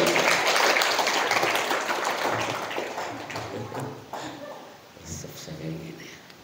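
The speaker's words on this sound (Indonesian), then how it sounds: "Boleh tepuk tangan buat kita." An audience of teachers at a pesantren motivation session bursts into loud, dense applause that gradually thins and fades over several seconds, with a few scattered claps lingering at the end.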